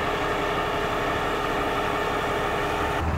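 A 2012 Kenworth T660 truck with a 228-inch wheelbase idles steadily nearby, a constant low diesel rumble that stays even throughout with no talking.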